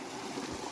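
A small trickle of water runs steadily from a tap that has been partly shut off, a soft continuous flow with a gentle gurgle, close by and unbroken.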